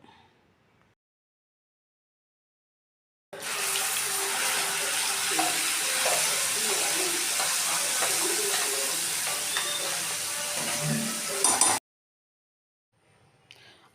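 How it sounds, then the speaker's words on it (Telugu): Hot oil tempering in a pan sizzles loudly and steadily for about eight seconds as red chilli tomato chutney is stirred in, a dense close crackle that cuts off abruptly. "ఇంకో తాలింపు అయితే వేగిపోయిందండి ఇంకా పచ్చడి వేసుకుందాం దీనిలో"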